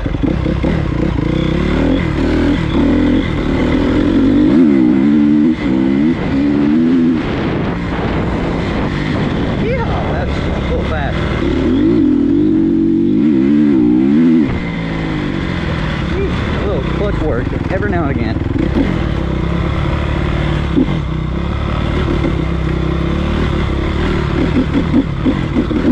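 A Honda CRF250R dirt bike engine sputters and revs unevenly while riding a trail toward hill climbs, loud and close with wind buffeting the microphone throughout.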